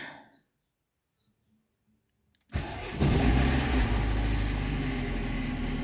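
A car engine cranks briefly after near silence, then catches and settles into a steady, loud idle close by while warming up.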